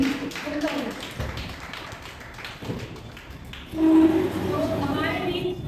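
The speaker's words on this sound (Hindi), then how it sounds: "ये अगर जोरदार है तो धीमे स्वर में कैसे तालियां बजती बजा के दिखाना।" Soft, light clapping from a school audience at a Teachers Day program, gentle scattered taps running under voices and a steady background, with a brief louder swell toward the end.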